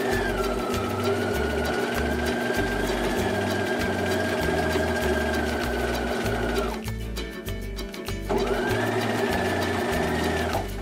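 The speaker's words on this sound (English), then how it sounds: "now I'm going to sew this extra fabric that'll be the actual pocket" A sewing machine stitches extra fabric for a welt pocket, running at a steady rapid clatter close by, pausing briefly and then starting again.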